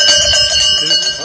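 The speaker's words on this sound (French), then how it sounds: "Il y a une cloche, c'est pour se faire entendre." A bell rung at a farmers' protest against wolves clangs repeatedly with bright metallic tones, loud and close amid a crowd, with people talking nearby.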